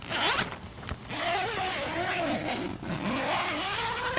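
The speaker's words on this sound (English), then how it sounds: "It's got a double zipper right here, so you can get in and out." A double zipper on the mesh entry door of a OneTigris Backwoods Bungalow tent is drawn open in one long, steady, close-up zip lasting several seconds, with no talk.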